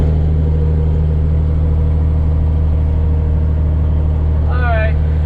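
A vehicle cruises along the Cape Cod Canal with a steady low engine and road drone. A brief whistle-like chirp rises near the end.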